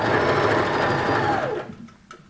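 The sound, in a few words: sewing machine stitching scrubs trousers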